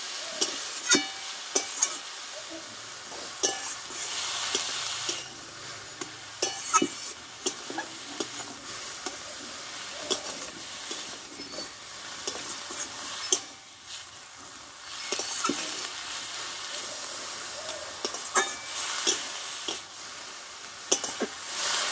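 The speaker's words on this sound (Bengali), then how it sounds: "একটু আমি নাড়াচাড়া করে দেবো আগে, লবণ দেওয়ার আগে, যাতে কাঁচা গন্ধটা একটু চলে যায়" Chickpea greens cooked vegetarian style in a pan, stirred repeatedly with scraping, clattering strokes over a soft, steady sizzle, with occasional short pauses between rounds of stirring.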